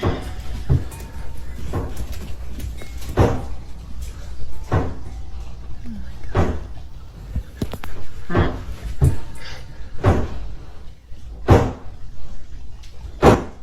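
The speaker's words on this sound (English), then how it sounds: "slamming the door shut" A door inside a house is slammed shut again and again, about a dozen sharp bangs at a fairly regular pace of roughly one per second, over a low steady rumble.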